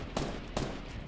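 Sniper rifle fire in the Fortnite battle royale game: two sharp, fairly quiet shots about half a second apart, each with a short fading tail, and no talking.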